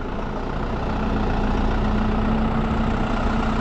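Farm tractor engine running steadily on damp field ground, its loud, even idle-like rumble with a low drone held close and constant throughout, no voices.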